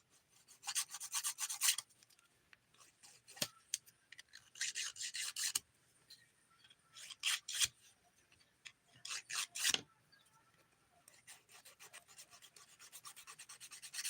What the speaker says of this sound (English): You start filing.